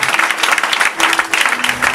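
A church congregation applauds and cheers in praise during a worship service, a dense continuous wash of clapping with crowd voices mixed in, loud and sustained throughout.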